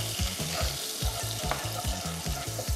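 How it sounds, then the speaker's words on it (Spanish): Powdered spices toast in hot oil in a pot while being stirred steadily, a dense close sizzle broken by a regular rhythmic scraping of the spoon against the pot bottom. "en este aceite voy a echar mis condimentos en polvo. Y los voy a revolver muy bien, quiero que se tuesten"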